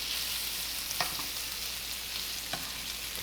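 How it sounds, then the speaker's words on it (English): Pre-cooked blackened shrimp frying in a pan, giving a steady, close sizzle with a couple of brief utensil clicks as the pieces are turned, no voices. "Okay, I'm turning the shrimp."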